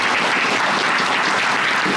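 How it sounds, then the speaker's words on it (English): Brief burst of loud, dense audience clapping at a live podcast panel, continuous and close throughout. "huge round of applause"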